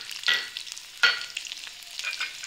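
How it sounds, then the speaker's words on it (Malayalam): Mustard seeds, chopped shallots and dried chillies hit hot oil for a drumstick tomato curry, making three sharp sizzling bursts that fade into a lighter crackle, close up and with no talking. "എണ്ണ ചൂടായിട്ടുണ്ട്. ഇതിലേക്ക് നമുക്ക് കടുക് ഇട്ട് കൊടുക്കാം. ഇതിലേക്ക് കടുക് പൊട്ടിയിട്ടുണ്ട്."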